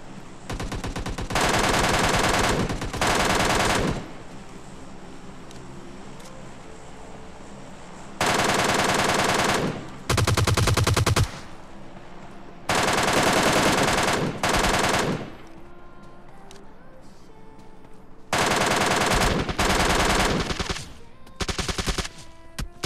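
Bursts of automatic machine gun fire in the battle royale game PUBG Lite, several loud sustained volleys separated by short pauses, with quieter game ambience in between.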